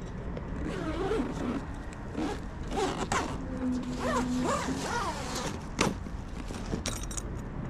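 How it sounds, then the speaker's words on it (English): A zipper is drawn closed on a free-standing 270-degree awning mounted on a truck canopy, a close, loud rasping pull lasting several seconds with a few tonal squeaks and a sharp click. "And then you get your zipper."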